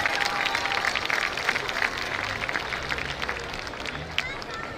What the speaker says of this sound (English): Let's have one more round of applause for our 23 Maverick cheer squad.